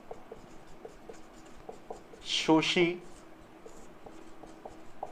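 A short scratchy burst of chalk writing out a chemistry equation on a classroom board, heard close under a teacher's ongoing lecture.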